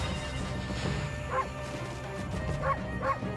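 The wolf Amaterasu barks in the video game Okami: three short, yappy barks spaced about a second apart, heard over steady game background sound.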